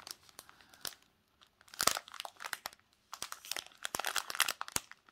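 Cardboard and plastic packaging from a Carat.Art diamond painting kit being folded closed, close crinkling and crunching rustles in bursts separated by brief pauses.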